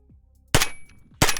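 PP-19 Bizon 9mm blowback gun fires two crisp, loud shots about 0.7 seconds apart, each a sharp crack with a short ringing tail, nearby and with no voices.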